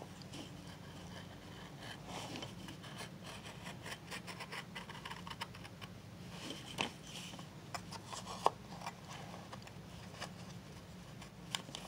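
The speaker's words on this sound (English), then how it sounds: "Got to cut in this cut that we've made all the way through to the other side." A hand saw cutting through a wooden box, a faint, steady rasping stroke with occasional sharp clicks and knocks, close and quiet.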